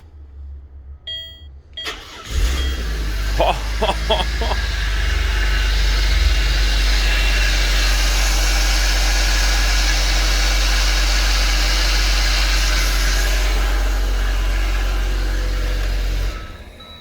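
A car engine cranks briefly after a jump start from a Lokithor JA301 1000 A jump starter pack, catches and settles into a loud, steady, close idle that runs on with no talk.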